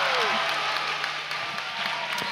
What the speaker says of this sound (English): you can see them just jumping up and down, cheering there